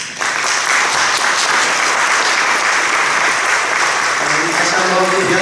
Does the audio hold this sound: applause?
yes